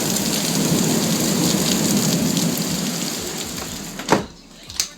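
A spring thunderstorm in northern New Jersey: heavy, dense rain pours steadily and loudly, then eases as a couple of sharp nearby thunder cracks break through near the end.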